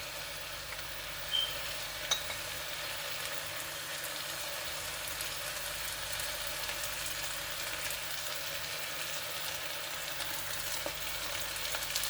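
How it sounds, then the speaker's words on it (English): Ingredients for Nigerian fried rice fry in a pan with a steady, soft sizzle that runs unbroken and fairly faint, with a couple of small clicks near the start and no talking. "Allow this to fry for a few seconds, and I'll turn it."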